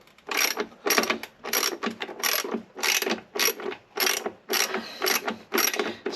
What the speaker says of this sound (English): let's start by taking the first bolt out